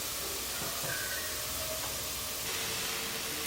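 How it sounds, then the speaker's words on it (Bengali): Onion and cabbage frying in a pan over high flame for spring roll filling, giving a steady, even hiss of sizzling throughout with no talk. "খানিকটা ভাজা হয়ে যাওয়ার পর এবার পেঁয়াজ আর বাঁধাকপিটাও দিয়ে দিচ্ছি।"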